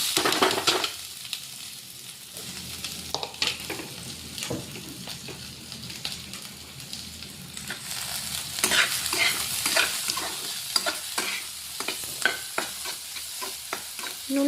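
Dried red chili, onion, ginger and potato hitting hot oil for chira pulao, sizzling steadily with repeated stirring and scraping in the pan, fairly close and continuous throughout, no talk.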